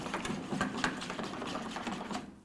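Batter for a beef pancake being whisked in a bowl, a rapid steady clicking and scraping rhythm that runs close and continuous throughout, with no talking.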